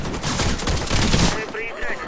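Rapid automatic gunfire crackles loudly in a shooter video game, a dense burst lasting over a second before cutting off into fainter game noise.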